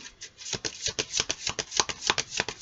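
Tarot cards being shuffled by hand for a reading, a fast run of crisp riffling flutters that repeat in steady bursts, close and moderately loud with no talking.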